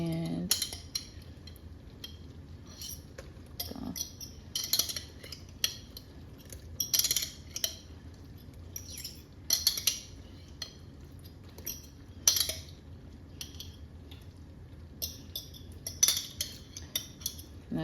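A metal fork clinks and scrapes inside a glass jar of roasted red peppers in a quiet kitchen. Sharp taps fall at irregular intervals between softer scraping.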